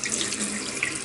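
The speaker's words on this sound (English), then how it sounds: "turn on the cold water again" Cold water runs steadily from a kitchen tap into a bowl held in the sink, a continuous close splashing rush with no voices.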